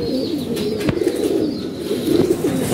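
Pigeon cooing close by, a steady low murmuring coo that runs through the whole short stretch with a few faint chirps above it.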